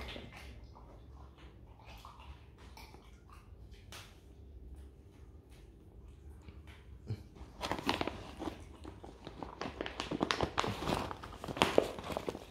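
Rottweiler dogs bite and chew food with wet crunching and snapping, sparse at first and then growing dense and louder toward the end, with no talk.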